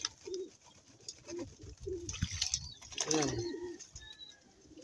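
Racing pigeons coo in a few soft, repeated low phrases, close by, with occasional wing flutters and brief bursts of someone speaking over them.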